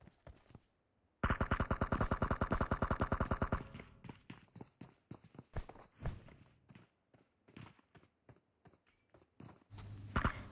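Rapid automatic gunfire from the PUBG Mobile video game, a sharp burst of about two seconds followed by scattered single shots and footsteps, fairly close and punchy.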